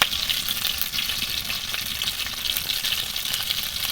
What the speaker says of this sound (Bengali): দেখুন অল্প তেলের মধ্যে খুব সুন্দর করে ভাজা হচ্ছে